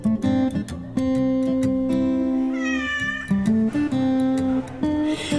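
A cat meows repeatedly, several drawn-out, insistent cries close by, with short pauses between them and no talking.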